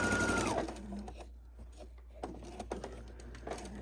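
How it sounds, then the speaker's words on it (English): Sewing machine stitching quarter-inch seams on a purple quilt block, a short motor whir at the start, then quieter intermittent mechanical clicks and taps with faint talk in the background. "pinning down the seams so that the seams align perfectly and they lay flat as we sew them"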